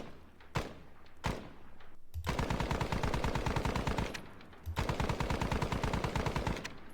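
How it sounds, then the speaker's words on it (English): Gunfire in the wargame Squad Battles Advance of the Reich: two single sharp shots, then two long rapid machine-gun bursts with a short pause between them, loud and close. "Right, so they received some fire,"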